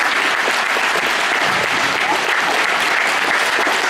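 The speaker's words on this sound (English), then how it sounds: "give one more round of applause to all of the teachers and the students here and our pianists" Loud, dense applause from a school choir concert audience for teachers, students and pianists at the Tri County Conference Choir, a continuous roar of many hands clapping that stays even throughout with no speech.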